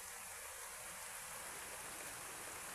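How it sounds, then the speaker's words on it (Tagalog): Rain falls as a steady, soft hiss of broadband noise, continuous and fairly faint throughout, with no voices. "ulan na yan."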